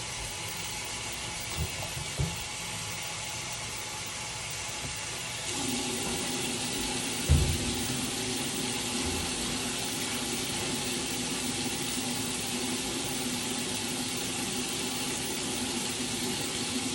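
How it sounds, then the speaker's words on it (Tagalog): A tap pours water steadily into a washing machine, a continuous hiss that grows fuller partway through, with a few faint knocks and one thump. "Dagdagan natin ng tubig."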